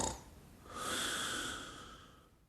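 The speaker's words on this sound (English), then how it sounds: "Do you mind not snoring so loudly?" A woman snoring in her sleep, a single drawn-out breathy snore that swells and fades, fairly quiet and close, with no talking.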